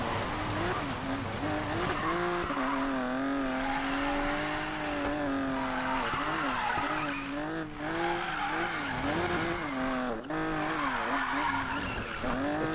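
A drift car's tires squeal in a long, continuous skid in the Need for Speed Payback racing game, the pitch wavering as the engine revs rise and fall, loud and close with no talking.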